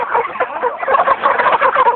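Chickens clucking close by in a poultry shop in Kerala, a steady mass of overlapping clucks and squawks filling the whole stretch without pause.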